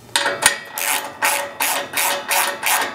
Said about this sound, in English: Let's bolt all these on to the machine.